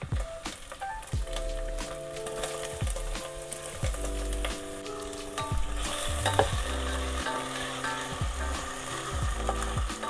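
Tomatoes go into a pan of sizzling biryani masala with onion and garlic paste, a steady fry hiss broken by repeated scraping and stirring strokes of a utensil, close up and with no speech.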